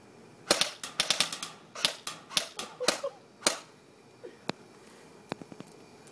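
An MP5 airsoft gun fires outdoors in a rapid string of sharp, snappy cracks. A few spaced single shots follow, close and fairly loud with no talking.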